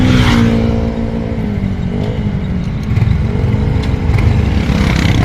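Heavily loaded motorcycle tricycle with its engine running, a loud, close, rough drone that dips and swells as it pulls the weight.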